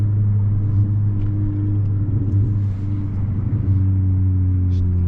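A Honda Civic Si's turbocharged engine hums steadily from inside the cabin, a low droning tone holding nearly constant with slight shifts in pitch, more of a relaxed cruise than a hard pull, with no voice heard.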